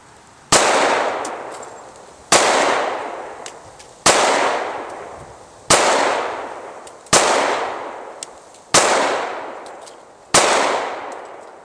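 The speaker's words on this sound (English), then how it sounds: "So anyway, let's get on to the shooting." Seven single shots from a Kimber 1911 pistol fired at 10 yards at an outdoor range crack out sharply at a steady pace about every second and a half to two seconds, each followed by a decaying echo.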